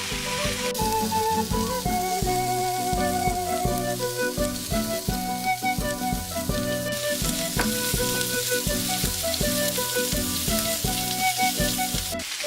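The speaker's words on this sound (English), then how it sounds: "I just throwing a couple chunks of my pork shoulder in there. And at this point, you just let it keep searing." Chunks of pork shoulder sear in a hot pan with a steady, close sizzle that runs unbroken throughout, partly masked by loud rhythmic background music.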